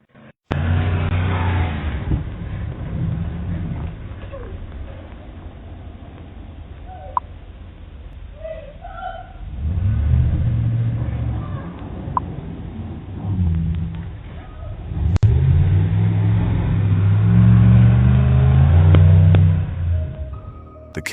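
Black vehicle's engine revving in surges on a cold night in Pennsylvania, captured by a muffled surveillance camera, with loud low rumbling swells later on, mixed with shouting voices and outdoor noise.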